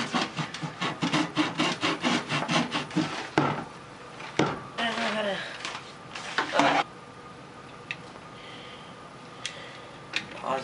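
Rhythmic back-and-forth sawing strokes on wood, loud and close, then a few scattered scrapes and knocks as the sawing pauses.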